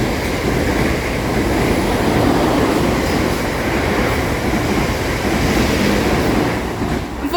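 A South Western Railway passenger train passes through Eastleigh station on the main line, a steady, loud, close roar of wheels and motors with faint rail clatter that holds for several seconds, with no talk.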